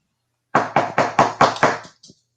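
A voice imitates rapid Bigfoot tree knocking: six quick, loud, evenly spaced knocks close up, followed by a faint softer tap.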